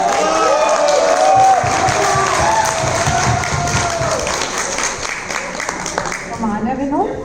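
An annual day audience at an office event applauds and cheers, a sustained wash of clapping and whoops under an announcer's voice, fading slightly before a final swell.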